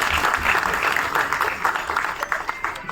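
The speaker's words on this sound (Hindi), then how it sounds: "एक बार बंदा के लिए एक बार जोरदार ताली चाहिए।" An audience at a film trailer launch breaks into dense, sustained applause, many hands clapping at once in a continuous wash that fades slightly toward the end.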